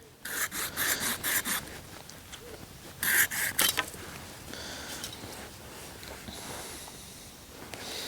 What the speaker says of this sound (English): So fine-tooth saws are ideal for this. Maybe a little hacksaw or something,